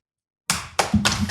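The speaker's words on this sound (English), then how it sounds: "Can I just applaud both of you?" A short burst of hand clapping follows a moment of silence, with about three close claps ringing out loudly in quick succession.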